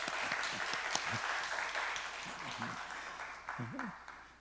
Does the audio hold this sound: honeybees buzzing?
no